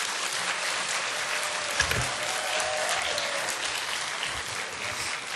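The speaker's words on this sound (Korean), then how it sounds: "목사님 나오실 때 환영하는 마음으로 박수로 맞이하겠습니다." A church congregation claps steadily to welcome the pastor to the pulpit at a Sunday service, a sustained wash of applause with a low voice briefly underneath.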